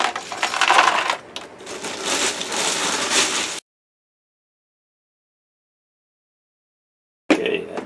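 Ice cubes are dropped onto fabric for ice dyeing, with a close clattering, crunching rattle of cubes tumbling for several seconds. Then comes a stretch of silence and a short final burst of clinking.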